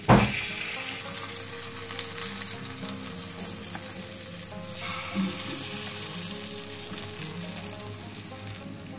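Rice flour appe batter hits a hot appe pan with a steady, loud sizzle and frying crackle that runs without a break, with a faint clink of utensils partway through.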